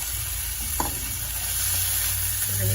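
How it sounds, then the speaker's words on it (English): Lentils and brown rice being stirred into onions and garlic in a skillet sizzle steadily and close, with a brief utensil scrape partway through and no talking. "We're going to stir that together with the onions and garlic."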